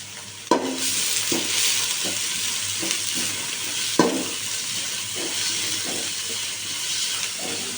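Garlic, onion and green chili fry in ghee with a bright, continuous sizzle, broken by repeated scraping stirs and a couple of sharp knocks against the pan; no one speaks.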